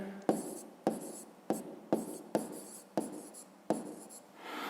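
Pen writing on paper during a fifth-grade maths exercise: a series of close, crisp scratching strokes, each starting with a sharp tap and fading, repeating at a regular pace in a quiet room.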